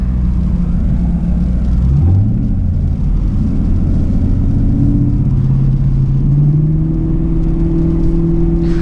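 Chevrolet Camaro SS 1LE drifting on snow with traction control off: a deep V8 rumble rising and revving steadily, engine pitch climbing and holding loud and close throughout, no voices.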